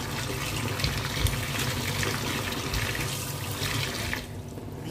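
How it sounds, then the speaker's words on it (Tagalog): A kitchen faucet runs steadily, tap water splashing into a sink in an even rushing stream that thins out near the end, with no talking. "Pag matagal yung bukas yung gripo, matanggal na yung mainit nakastuck sa gripo."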